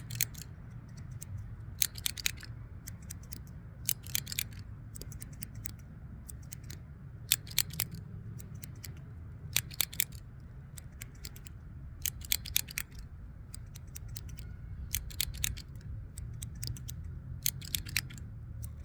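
Sharp, crisp snips of scissors in small irregular groups over a low steady hum, close and fairly quiet, with no talking.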